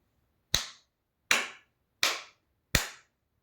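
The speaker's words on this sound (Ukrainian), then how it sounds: "я буду плескати у долоні, ви будете мені казати, скільки разів я плеснула" Four sharp hand claps, evenly spaced about three-quarters of a second apart, each crisp and close with a short decay, alone in an otherwise quiet room.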